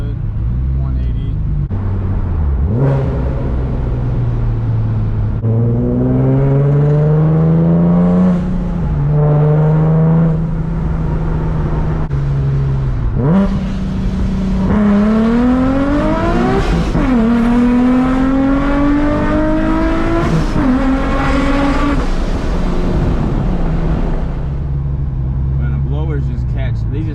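A boosted Nissan 370Z engine accelerates hard through repeated gear pulls, its loud engine tone climbing steeply and dropping back at each shift, heard close from inside the car.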